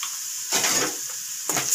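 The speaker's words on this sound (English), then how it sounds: "The onion is being fried." Onion fries in a pan for a goat brain pepper fry, a steady soft sizzling hiss broken by two brief louder bursts of crackle, like stirring, with no talking.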